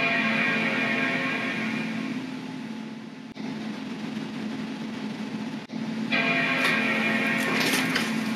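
A Mac Pro 5,1 tower chimes at startup, repeating during a PRAM reset. The bell-like tones sound several times over a steady, loud whir of fans.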